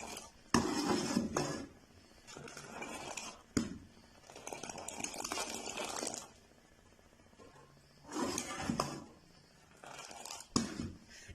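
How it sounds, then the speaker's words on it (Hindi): Metal whisk clattering against a pan while a mixture cooks for several minutes, heard as bursts of scraping, clinking strokes that stop and start, close and fairly loud with quieter pauses between. "पाँच मिनट इसे फेंटते हुए पकाएंगे।"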